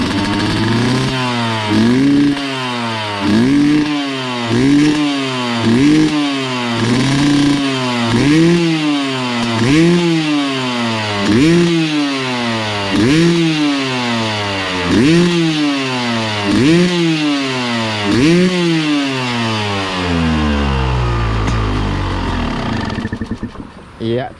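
A motorcycle engine warming up with excess oil in the combustion chamber is revved again and again, about a dozen loud rising blips over a rough idle, before settling down near the end.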